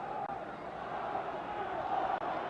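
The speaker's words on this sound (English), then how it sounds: "the crowd is starting to urge Patterson on" Spectators at a heavyweight boxing bout between Floyd Patterson and Oscar Bonavena roar steadily from the arena, a dense, continuous wash of cheering voices broken by two brief dips.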